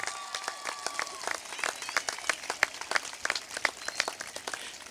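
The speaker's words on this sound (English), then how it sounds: "Let's give them a great, wonderful applause." A crowd at a middle school graduation ceremony applauds the parents. The clapping is scattered and fairly faint, with some crowd noise and a few voices mixed in.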